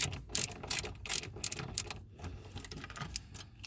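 Small hand-tool clicks and ratcheting taps as screws are worked loose from the ignition plate on a Dodge, a close, irregular run of light metallic ticks with brief pauses.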